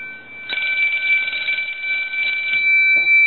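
A Kellogg Redbar rotary desk telephone bell rings continuously with a bright, harsh metallic jangle, loud and close, holding steady for about three seconds.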